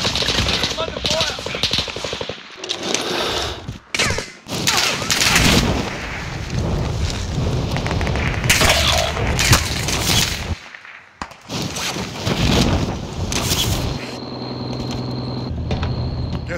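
A frag grenade blast and heavy gunfire in the Call of Duty Warzone video game: loud booming bursts and rattling shots with brief quiet gaps, and voices speaking over the combat.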